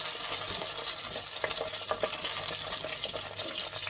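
Mustard seeds and cumin splutter in hot oil while tempering for a thattaipayaru kulambu, a steady sizzle broken by scattered sharp pops and crackles, close by and fairly quiet.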